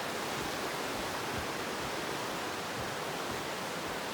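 A river running alongside the Appalachian Trail, heard as a steady, loud wash of flowing water, broadband and unbroken, with no voices over it.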